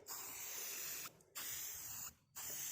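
Two long bursts of aerosol spray paint hiss close by onto a barbecue grill, each lasting about a second, separated by short pauses.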